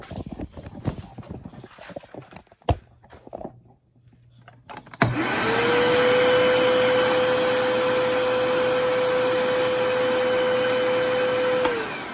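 A Eureka vacuum cleaner switches on abruptly and runs at a steady, loud drone with a high whine, after a few seconds of quiet handling noises.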